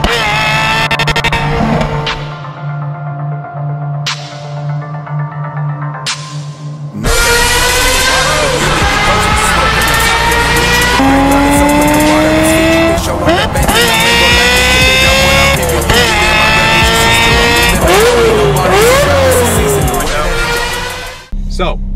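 Ferrari 355 engine and exhaust, a loud roaring car engine climbing through revs with rising and falling pitch sweeps, close and continuous, with no voice over it.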